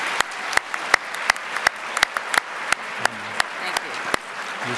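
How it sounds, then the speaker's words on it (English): An audience at a school Veteran's Day ceremony applauds steadily, with dense clapping and a few sharp, louder claps standing out near the microphone. "let's give her a big round of applause"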